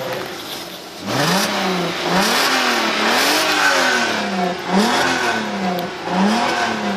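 A VW Golf Mk5 R32's 3.2 litre V6 engine revs repeatedly, pitch rising and falling through several quick gear pulls, loud and raspy, heard from close by.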